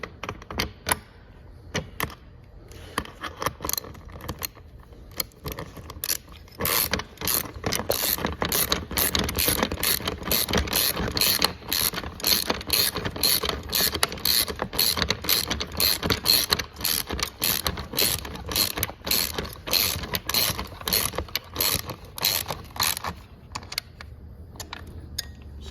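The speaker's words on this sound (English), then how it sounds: "Grab your 4mm Allen, your 10mm socket. Tighten these down." A ratchet fitted with a 10mm socket tightens motorcycle taillight mount bolts on a 2019+ Kawasaki Ninja ZX-6R, giving long, fast runs of close, rhythmic clicking with brief pauses between strokes.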